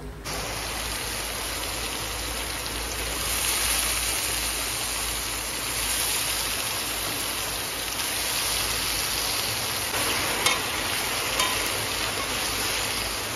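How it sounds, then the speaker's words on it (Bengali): Small potato pieces frying in a pan give a steady, dense sizzle that holds at an even level throughout, close by and with no talking. "প্রথমে আমি ভাজা করে নেব"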